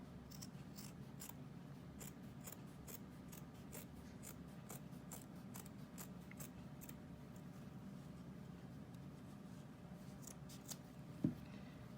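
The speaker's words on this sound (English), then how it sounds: "I want you to just cut the arm part right on out." Scissors cut the sleeve off a t-shirt in a steady run of quiet, close, crisp snips and fabric rasps over a faint background hum.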